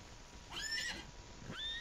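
A horse in the Western video game Outlaws of the Old West neighs twice, a high whinny followed shortly by a second starting call, clear and close with no talking.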